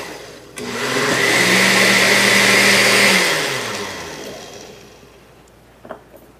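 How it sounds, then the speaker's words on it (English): A blender whirs through a kefir smoothie with a loud, steady motor drone that rises after a short start, holds for about three seconds, then winds down and fades, followed by a faint knock near the end. "So I'm just going to pour this in the blender."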